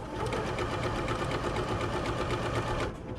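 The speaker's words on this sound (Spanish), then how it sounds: "Aquí estoy cosiendo a una velocidad bien lenta, pero esta máquina nos permite cambiar eso." A domestic sewing machine stitches stretch fabric at medium speed, giving a steady, rapid mechanical whir with a fine rhythmic needle clatter, close and continuous for about three seconds before easing off.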